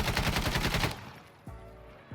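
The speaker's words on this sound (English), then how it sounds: "So here we go with the Ace 52, full auto, 20 rounds, no attachments, control." An ACE 52 rifle with no attachments fires a rapid full-auto burst of gunshots, loud and close, then stops abruptly with a short echoing tail.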